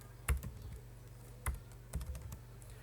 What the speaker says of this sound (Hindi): यहाँ पे आप लोग कोई और नाम लिख सकते हैं, जैसे कि अहमद हो गया